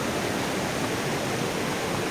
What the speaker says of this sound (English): Look at the water coming down.